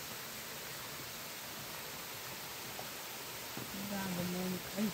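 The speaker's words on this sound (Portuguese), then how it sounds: "Aqui já tem uma quedinha da água." A small waterfall in a forest park, Parque Ecológico Pedro Mineiro, gives a steady broadband rush that fills the background throughout, with faint sounds and a brief voice-like tone near the end.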